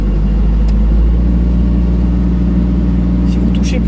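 A 6-tonne mini excavator's engine running at a steady idle, a close, loud low rumble throughout, with someone talking over it.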